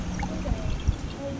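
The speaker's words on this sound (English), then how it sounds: "Fill that up with water there, just below that valve" Water poured into a moka pot outdoors: a brief, close, steady trickle and splash with a low gurgle, lasting just over a second, with no speech.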